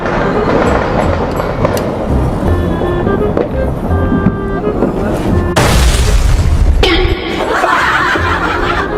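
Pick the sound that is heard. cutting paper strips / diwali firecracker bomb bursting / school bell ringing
diwali firecracker bomb bursting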